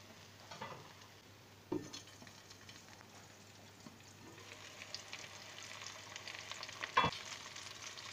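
Aubergine and potato cook in a pan over low heat, a faint, quiet sizzle with a few soft knocks and a sharper clink of a utensil against the pan.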